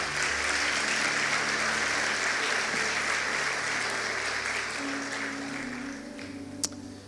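A church congregation applauds during a sermon, a sustained wash of clapping from a room full of people that holds steady and then tapers slightly, with low sustained tones underneath and a single sharp knock near the end.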